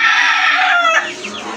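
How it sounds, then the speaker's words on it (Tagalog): Gamecock chicks cheep in quick, high chirps over a dense, close chorus of peeping and soft clucking, with the flock sound thinning slightly after the first second. "So, yung mga sisiw natin."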